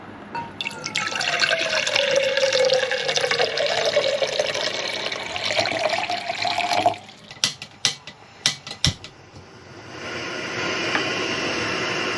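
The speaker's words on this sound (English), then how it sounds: "let's get some water in the JetBoil and fire it up" Water pours steadily into a small metal JetBoil camp stove pot for several seconds, its pitch rising as it fills, followed by a few clinks and handling sounds.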